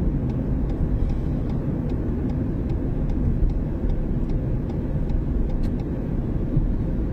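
A car on the road during a driving lesson speeds up to overtake a slower car, heard from inside as a steady low engine and road rumble with faint light ticking above it.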